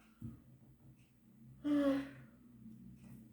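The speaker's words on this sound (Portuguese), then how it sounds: "Eu tô bocejando aqui." A person yawning outdoors in a park, one long breathy exhale with a brief voiced tone, close but quiet, after a faint short intake of breath.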